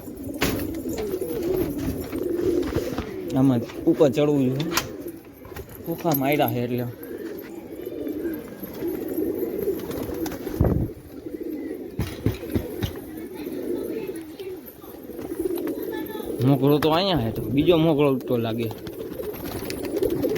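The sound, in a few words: pigeons cooing in a loft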